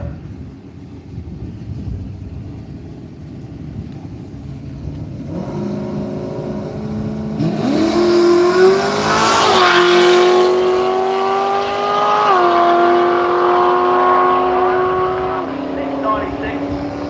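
An XD Falcon and a Toyota Supra launch off the line at a drag strip, engines rising from an idle rumble into a loud revving surge that builds and holds as the cars pull away, with an announcer talking over the noise.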